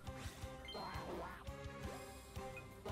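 A Psyduck cry from the Pokémon: Let's Go, Pikachu! video game, a series of short nasal quacking calls mixed with game music and chimes.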